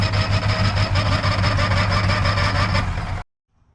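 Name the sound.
revived car engine running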